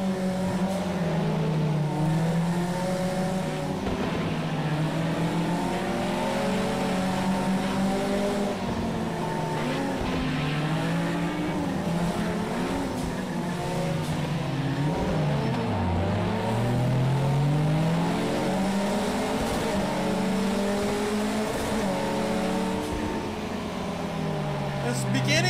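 Ford Escort race cars revving in the Project Cars racing game, with a dense, continuous engine drone and rising and falling revs from several cars throughout, and a voice talking over them.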